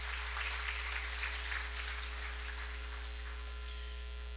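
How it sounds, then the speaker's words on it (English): Sustained applause from a banquet audience, dense and steady clapping filling the room for the whole stretch without any voice on top. "Another round of applause"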